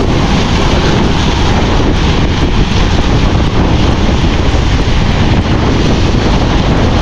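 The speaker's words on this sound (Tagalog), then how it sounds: "Medyo tinatangay na naman tayo ng hangin." Strong wind roars steadily across the microphone while riding a Nwow WSP e-bike on a rough, potholed road at night, a loud continuous buffeting rush with no talking.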